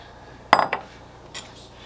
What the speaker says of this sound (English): And then we're just going to mix this in here until we get everything good and coated.